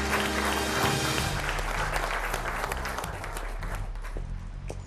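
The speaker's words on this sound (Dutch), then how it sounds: "APPLAUS" Studio audience on a Dutch courtroom TV show applauding after a verdict, a full, sustained burst of clapping over lingering background music that fades partway through.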